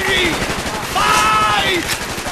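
Rapid, dense automatic gunfire in Call of Duty Black Ops on Xbox 360 fills the whole clip, loud and continuous, with shouted voices mixed in.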